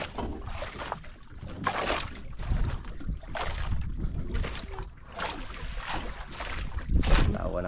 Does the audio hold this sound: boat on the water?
yes